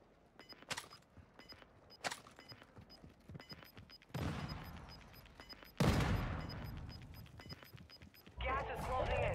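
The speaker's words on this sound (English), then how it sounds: "LMG rounds here." Light machine gun fire in Call of Duty Warzone 2.0, rapid clusters of sharp shots rattling out in bursts, some close and loud, others more distant, with heavier blasts and a radio-style voice speaking.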